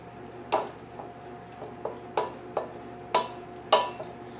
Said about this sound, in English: Okay, so we're gonna stir this up.